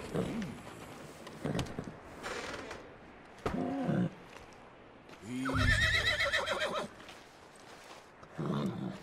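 A horse in the Red Dead Redemption 2 open-world game whinnies and snorts in several loud bursts, with hoof clops and rustling in between and a final short neigh at the end.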